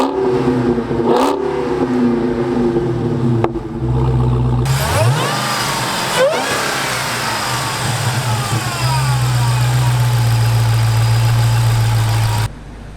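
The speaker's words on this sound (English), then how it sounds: "let's start up this engine so you can get a good listen to that" A 2017 Dodge Charger SRT Hellcat's supercharged V8 cranks and fires with a sharp roar, then revs briefly before settling into a loud, rumbling idle that continues to the end.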